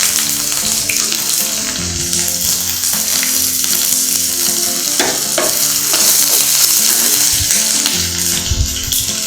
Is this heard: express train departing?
no